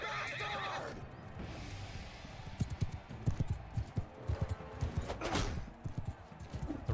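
Horses in the battle game Mount & Blade II: Bannerlord whinny loudly at the start, followed by a dense patter of galloping hooves and a second neigh near the end, amid general battle noise.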